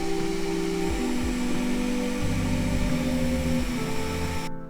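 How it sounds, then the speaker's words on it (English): A hair dryer blowing steadily at close range to soften sticker adhesive on an Xbox Series X console, a loud continuous whir with shifting pitch as it is moved around, ending abruptly. "I'm gonna use the hair dryer, try to loosen up some of this adhesive"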